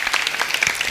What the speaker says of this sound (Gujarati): સમગ્ર સંગીત ટીમને આપ સૌની જોરદાર તાળીઓ માગીશ